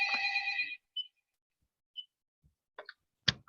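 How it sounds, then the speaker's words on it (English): A phone rings in a quiet room with a few short electronic tones and chirps, then sharp clicks and a clatter as the handset is picked up and silenced. "sorry about the phone"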